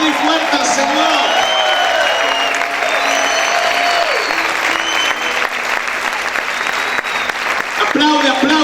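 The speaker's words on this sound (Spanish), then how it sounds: "¿Cuántos pueden gritar y aplaudir fuerte al Señor?" A church congregation applauds the Lord loudly, with continuous dense clapping from start to finish and raised voices and shouts riding over it.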